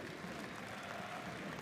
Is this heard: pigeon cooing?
no